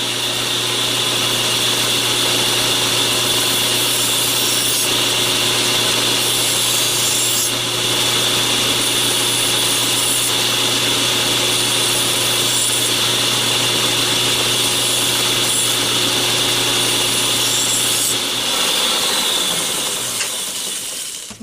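Steady abrasive grinding of a knife's steel on a 220 grit power wheel, a continuous loud whine with a low hum, running unbroken for about eighteen seconds before winding down.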